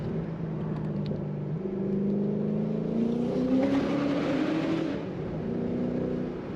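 A supercharged 2006 Ford GT engine accelerating on the Autobahn, a loud steady drone rising in pitch through the gears, heard from inside the car with no talk.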